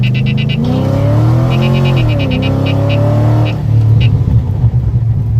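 Chevrolet Corvette engine heard from inside while driving through a corner, a loud steady rumbling drone with pitch rising and falling as revs change, accompanied by repeated beeping chimes and a voice talking.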